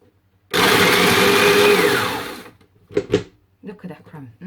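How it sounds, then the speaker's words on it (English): A food processor blitzes biscuits into crumbs for a Biscoff cheesecake base, a loud steady whirring grind lasting about two seconds before cutting off, followed by brief clatter and a voice speaking. "we are going to have the biscuits using the food processor"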